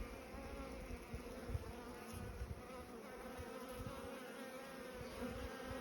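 Honey bees buzz steadily around a yard in Alberta, a dense, continuous drone of many insects at moderate distance with faint outdoor background.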